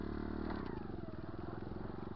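A dirt bike engine racing against a Losi 22 RC car, droning loudly and steadily with a buzzing, slightly rising pitch as it pulls away.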